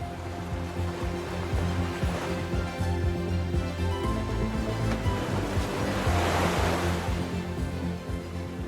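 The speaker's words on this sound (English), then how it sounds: "waves returning again and again, carving space without altering the structure around them." Atlantic waves surge into the volcanic sea caves of Ajuy on Fuerteventura, a steady hollow rushing wash with swelling surges, moderately loud and continuous, over a low droning background with no voices.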